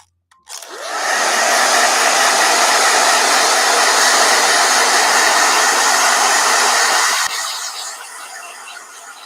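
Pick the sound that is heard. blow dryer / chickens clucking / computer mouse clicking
blow dryer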